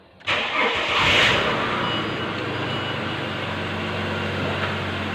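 A Ford Falcon BA engine cranks briefly and catches, then settles into a steady, loud rumbling idle with no talking.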